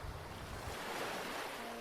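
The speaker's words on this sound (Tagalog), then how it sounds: "makaupo sa tabi ng dagat habang pinapakinggan ang mga alon nito" Sea waves wash continuously along a shoreline, a steady broadband surf roar with wind noise mixed in, close and fairly loud throughout with no voices.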